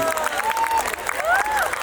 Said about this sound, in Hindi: तो एक बार जरा उनके लिए तालियां बजा दीजिए